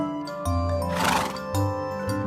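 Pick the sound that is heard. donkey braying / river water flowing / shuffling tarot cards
donkey braying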